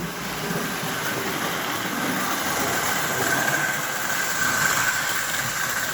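A plastic-bodied Atlantic model train locomotive runs steadily on its track, a continuous close whirring motor hum with faint rolling rattle and no talking.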